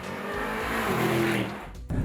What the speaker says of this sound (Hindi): स्पोर्ट प्लस मोड में इसे रखिए और वो ग्राउल और जो रोर है इसका